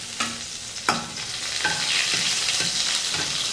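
Ingredients for a home-style egg and potato curry, including onion, fried and stirred in a pan: sharp spoon scrapes and knocks over a steady close sizzle, with no voices.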